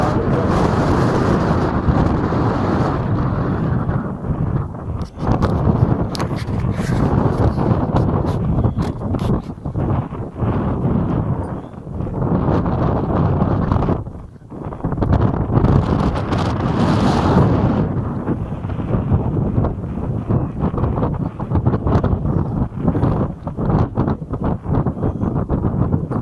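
Gusty wind blowing outdoors in a park in Artesia, New Mexico, buffeting the microphone in loud rumbling surges that rise and fall over about 26 seconds, with no voices audible.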